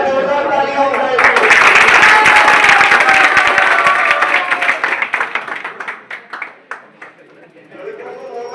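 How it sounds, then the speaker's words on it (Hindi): A classroom audience at a computer training centre bursts into loud applause, a dense burst of clapping that holds for several seconds and then thins out into scattered individual claps. "एक बार जोरदार तालियां बजाइए।"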